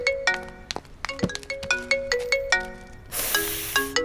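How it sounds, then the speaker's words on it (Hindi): A bright, chiming phone ringtone plays a repeating melodic pattern of plucked tones, loud and clear, with a burst of hiss near the end. "फोन।"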